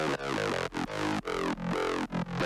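Synth line run through Serum tube distortion at full drive and full mix, gritty and harmonically rich, pulsing in short rhythmic notes with brief gaps, played alone.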